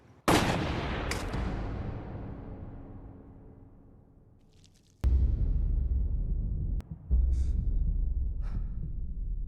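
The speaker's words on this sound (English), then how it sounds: "Then Christine Hill shoots him in a parking lot" Gunshots in a TV drama scene set in a parking lot: a loud, sharp crack opens the clip and decays into a long tail, then more abrupt, heavy bangs follow, with faint breaths and gasps between them.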